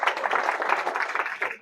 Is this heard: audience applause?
yes